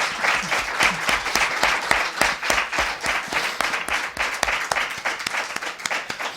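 A lecture audience at a conference on María Teresa León breaks into dense, sustained applause, many hands clapping steadily throughout.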